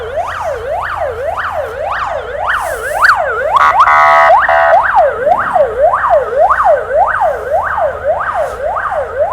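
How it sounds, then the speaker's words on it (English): A police siren wails in rapid, repeating up-and-down sweeps as the car passes along a city street in Ukraine, loud and close, with a brief burst of harsher tone midway. "I'm not used to hearing sirens much anymore."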